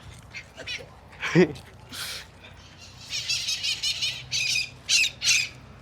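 Several harsh bird squawks ring out by the seaside in Barcelona, Spain, followed by a rapid series of sharp, close calls in bursts, with faint noise in between.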